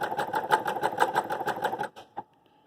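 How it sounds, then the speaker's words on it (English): Sewing machine running a lightning bolt stitch through swimwear fabric, a fast even mechanical whir with rapid needle pulses for about two seconds, then stopping with a couple of short clicks. "If you notice your sewing machine is starting to get a little loud, it probably needs to be cleaned."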